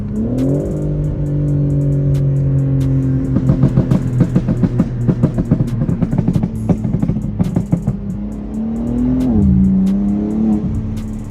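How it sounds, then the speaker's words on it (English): A BMW M5 G80 revs up, its exhaust burbling with rapid uneven pops and crackles over a deep, loud engine drone, then the revs rise and fall again, close by with no talk. "does everybody G80 burble like this or does it have a tone?"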